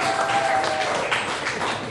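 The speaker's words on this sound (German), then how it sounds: "hoffentlich haben da nur Männer geklatscht" Audience applause at a live German comedy show, dense steady clapping from a full crowd filling the room, fairly loud and sustained without pauses.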